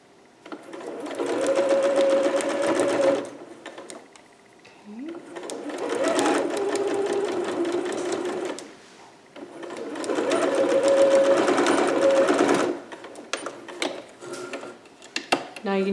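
A sewing machine stitches the side seams of a Vogue 8280 garment closed in three sustained runs, each a steady whirring hum lasting a few seconds, separated by short pauses filled with light handling clicks and faint rustling.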